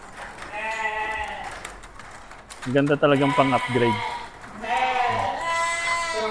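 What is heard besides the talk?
Dorper sheep bleating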